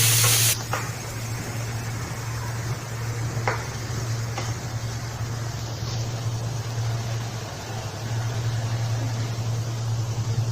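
Ground paste hitting hot oil with mustard seeds and cumin for matar paneer, a steady loud sizzling hiss that starts abruptly and holds throughout, with a low hum underneath and a few faint clinks.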